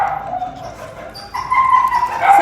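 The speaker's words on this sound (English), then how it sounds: "Yes, Boo, she's a big old pit bull" A large pit bull whimpers and yips in short whiny bursts close by, with soft barking mixed in and a voice talking over it.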